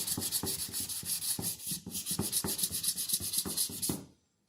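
Lower-grit sandpaper rubbed by hand across a Buick car body panel makes close, rhythmic rasping strokes, roughly two per second, ending abruptly in silence.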